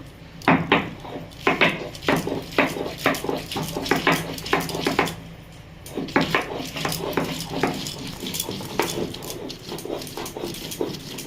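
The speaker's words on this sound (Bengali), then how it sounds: "শিলনোড়াতে আমি রসুন আর কাঁচা লঙ্কা একসাথে বেটে নেব" Garlic and green chillies being ground together on a stone slab with a grinding stone, a steady run of close scraping and knocking strokes with a brief pause midway, no talk.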